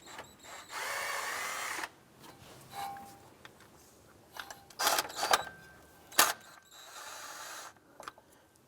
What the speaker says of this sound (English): Then we'll go ahead and finish removing these 3 bolts.